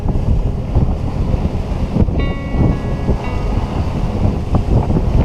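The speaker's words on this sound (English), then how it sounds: "Can't sail because the wind is in front of us. It's on our nose. So we're motoring." A sailboat motors into a headwind off the Dominican Republic coast, with steady low engine drone buried under heavy wind buffeting on the microphone and a faint water wash.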